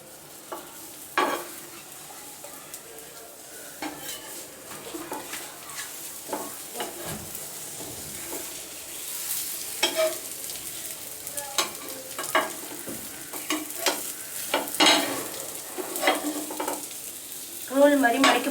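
Omelette frying in a pan, a soft steady sizzle with occasional scrapes and taps of a spatula as the egg is folded, close and fairly quiet with no talk.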